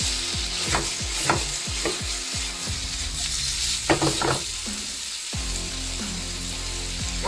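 Carrots and other vegetables sizzle in a pan for Chinese takeaway style chicken, with a spatula scraping and clacking in a quick rhythm over a steady hiss, close up and with no talk.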